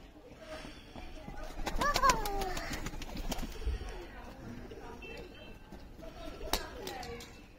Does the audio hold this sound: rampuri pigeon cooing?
yes